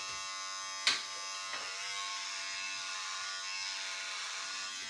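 An electric shaver buzzes steadily as it cuts through a thick beard, a faint constant hum with a sharp click near the start and a small tap shortly after.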